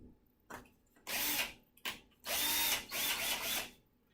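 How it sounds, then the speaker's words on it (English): A power drill fitted with a 3/16 inch bit bores into a wall in several short bursts, loud whining grinding spurts separated by quiet gaps, the longer final run stuttering slightly. "I'm starting with a 3/16 drill bit."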